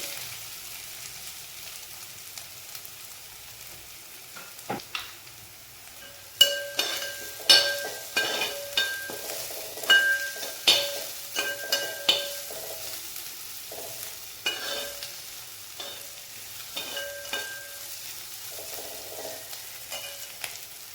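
Ingredients sauté in a pan for Kerala-style chickpea masala (kadala varattiyathu), a steady frying sizzle with repeated stirring scrapes and clinks of a utensil against the pan, getting busier partway through, close and with no talk.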